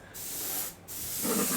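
Short bursts of spray paint hissing onto the deck of a scale model U-boat, two close steady sprays broken by a brief pause, with nothing else heard.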